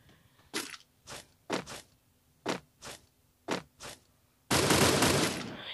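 Sharp gunshots from the Free Fire battle-royale game ring out in seven or so separate bursts, some doubled, then break into a loud, sustained volley near the end, with no talking.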